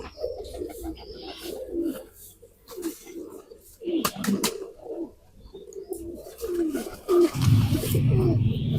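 Asal chohy pigeons coo in low, repeated throaty bursts at close range, a steady murmuring run of calls with a louder, denser stretch near the end.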